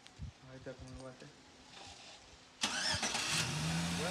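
Chevrolet Silverado pickup engine cranks and catches via remote start after a quiet stretch with someone speaking, then settles into a steady, close idle.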